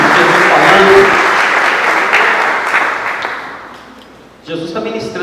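A church congregation breaks into loud, dense applause that swells and then gradually fades away, giving way to a voice speaking at the end.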